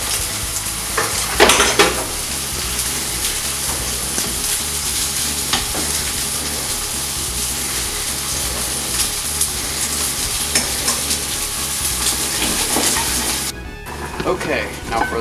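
Mushrooms sautéing in a hot pan, a steady bright sizzle running throughout with occasional stirring scrapes, under intermittent talk.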